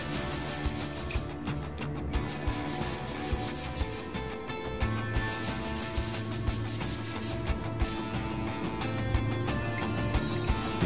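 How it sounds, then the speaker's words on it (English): Repeated spray-bottle spritzes and rubbing wipes during cleaning in the video game Prison Simulator, a busy run of short hissing bursts over steady game background sound, loud and close. "What does this spray do?"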